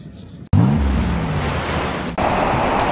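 Evening ocean waves at a crowded surf spot, heard as a loud roaring wash of surf with wind buffeting the microphone, breaking off abruptly midway before resuming more quietly.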